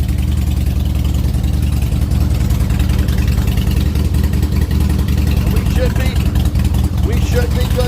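Harley-Davidson Softail motorcycle engine with a newly replaced crank sensor, running at a steady loud idle with a deep continuous rumble, close by, a voice talking over it.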